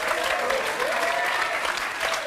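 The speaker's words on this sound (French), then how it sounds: "Qu'on applaudit." A studio audience at a French television contest show claps for a contestant, a full, steady round of applause with a faint voice rising briefly beneath it.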